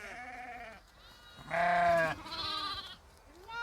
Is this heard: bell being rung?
no